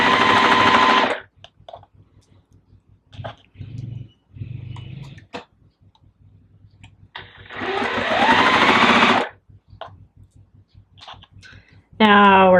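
A sewing machine stitching fabric during quilt block piecing: short bursts of fast, even whirring stitches, close and loud, separated by pauses with a person talking in between.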